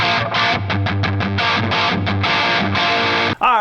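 Distorted electric guitar played through effects, a loud, fast run of chugging palm-muted riffs and chords in a driving rhythm, ending with a quick squealing bend.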